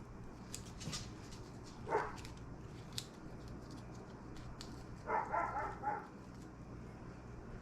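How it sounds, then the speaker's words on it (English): A pet dog barks a couple of short, faint yaps from another room in a home kitchen, a brief pair early and a cluster of quick barks later, over low background hum and clatter. "there goes my dog"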